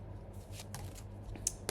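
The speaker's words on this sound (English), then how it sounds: "Let me shuffle properly" Tarot cards being shuffled by hand, a soft papery riffling with quick flutters and a few crisp snaps, faint and close, with no talking.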